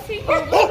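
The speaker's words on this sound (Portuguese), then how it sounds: "cachorro." A dog gives two short barks or yips close by, each a brief tonal burst, with people talking around it.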